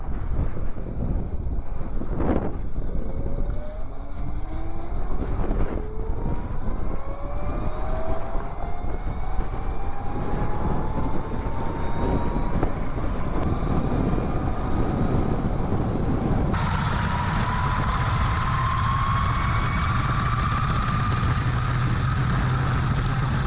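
Electro and Co kit electric mini bike motor running with a rising and falling whine over heavy wind rush, the pitch climbing as it speeds up, loud and continuous with no talk.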